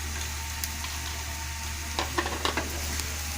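Raisins and cashews frying in oil for carrot laddu, a steady low sizzle with a few sharp spatters and stirring scrapes toward the end.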